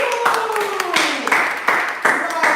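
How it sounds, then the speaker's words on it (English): An audience at a laser marking and engraving machine demonstration claps in a brief, uneven burst of hand claps of moderate loudness. "let's give a big hand of applause to Mr. Wu!"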